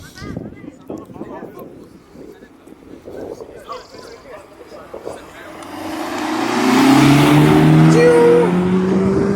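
A BMW M5 builds from a low rumble into a loud, rising acceleration on a scenic road, with a person talking over the quieter first half before the engine swells and dominates.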